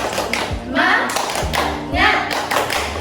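A primary-school class performs a rhythmic clapping chant together, with voices chanting in unison over regular, loud, close hand claps and thuds in a repeating pattern.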